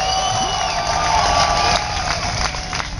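A crowd cheers and whoops at Ron Paul's Revolution March, a dense, loud, continuous roar of many voices filling the space.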